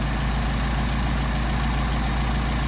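A Mercedes 190SL engine with Solex carburetors idling around 750 rpm, a loud, steady, low rumbling drone that holds constant throughout with no voices over it.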